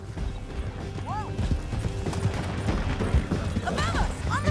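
Horse hooves gallop in the Red Dead Redemption 2 epilogue as riders flee: a steady, drumming clip-clop runs throughout with a brief whinny, under shouting voices and game sound effects.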